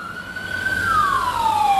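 Ambulance siren, a single loud wailing tone that holds steady and then sweeps downward as the vehicle passes close by, with faint traffic rumble underneath and no talking.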